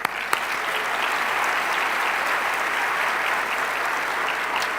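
An audience at a local climate action summit applauds, a dense, steady burst of clapping from a large crowd that carries on evenly with no speech over it.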